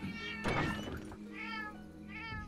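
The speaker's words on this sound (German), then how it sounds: "Oh, diese Katzen hier, alle miauen rum." Cats meowing in the video game Monster Hunter Online: several distinct meows in quick succession, near and clear, with a brief thump and no talk.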